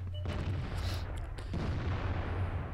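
Tank cannon fire in the World of Tanks video game: a sharp, heavy boom followed by a rumbling, sustained low roar, with a second muffled thump partway through.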